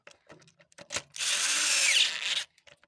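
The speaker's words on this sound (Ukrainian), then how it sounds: "І три ось закручую шуруповертом." A cordless drill-driver whirs for about a second and a half, screwing a nut onto a Tavria cylinder head, loud and close. Faint clicks and handling taps come before and after it.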